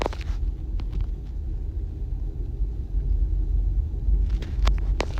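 Steady low rumble inside a moving car, a constant deep drone running the whole way with a few faint ticks and taps on top and no voices.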